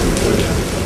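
Heavy monsoon rain pours steadily on a bus stand area, a dense continuous hiss with no voices, close and loud throughout the brief moment.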